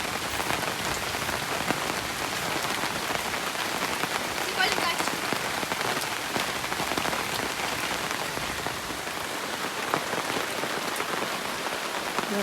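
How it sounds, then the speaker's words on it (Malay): Rain falling steadily at a family campsite in Bentong, a dense continuous patter of drops striking surfaces close by, unbroken throughout with no clear speech. "Dah hujan."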